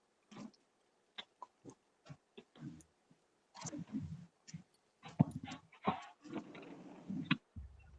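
Dogs make a run of short, irregular yelps, whimpers and scuffling clicks that build into longer, busier bursts of barking and growling, fairly close and loud. No speech is heard.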